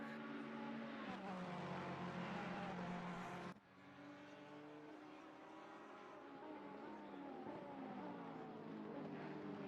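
A Ferrari race car in a racing game is heard onboard as its engine drones steadily at high revs, drops sharply on a gear change partway through, then settles into a lower, rising whine, with no one speaking.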